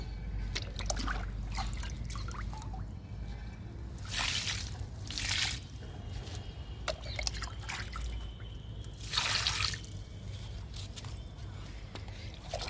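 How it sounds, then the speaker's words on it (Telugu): Liquid NPK fertilizer poured onto flowering potted plants, heard as a steady trickle and splash of liquid with a few louder sloshing bursts, close and moderately quiet over a low background hum. "మిల్లికి కూడా పోస్తున్నా."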